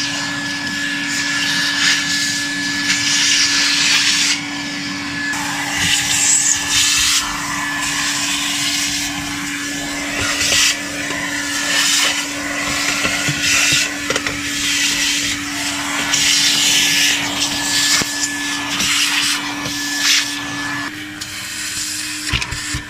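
A vacuum cleaner works over the carpets and interior of a Tata Altroz during a detailing job, a steady loud droning whine that runs unbroken, with small shifts as the nozzle moves.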